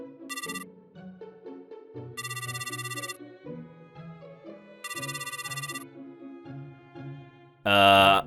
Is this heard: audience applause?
no